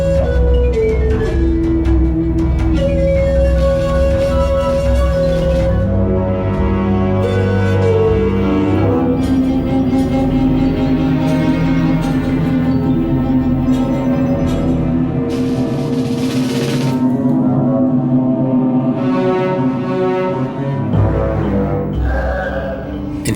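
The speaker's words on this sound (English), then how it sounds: "What you're hearing now is music I wrote for the old 1920 silent movie, The Last of the Mohicans." Orchestral film score written for the 1920 silent film The Last of the Mohicans, with sustained melodic lines over a full, continuous ensemble throughout, with no talking.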